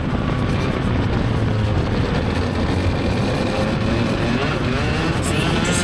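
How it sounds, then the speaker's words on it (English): A racing video game car roars continuously as it exits a turn on brand-new slippery rear tyres, the engine revs climbing with wheel spin in one loud, unbroken blare with no talk. "now we're going to listen to some wheel spin on the exit of turn 2 coming up here."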